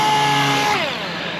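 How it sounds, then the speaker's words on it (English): A power sander with a 600-grit disc works a fiberglass mold, giving a loud, close, steady whine that drops in pitch partway through as the tool slows. "I got a few more minutes of sanding here"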